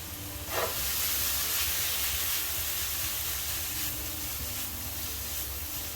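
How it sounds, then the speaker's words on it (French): Bell peppers hitting a very hot pan for a ratatouille, a sudden loud burst of sizzle that settles into a steady, dense hiss and crackle, close and continuous, with a faint rustle of stirring and no voices. "La poêle est bien chaude, on verse les poivrons dedans."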